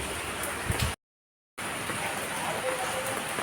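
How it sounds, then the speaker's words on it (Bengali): Heavy rain pours outside, a dense, steady hiss filling the clip, broken by a short gap of silence near the start before resuming at the same strong level. "বাইরে অঝর ধারা বৃষ্টি চলছে"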